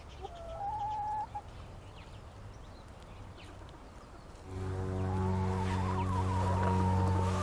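Chickens cluck near their coop in a quiet outdoor setting, a few calls at first, then a louder, more continuous stretch of clucking toward the end.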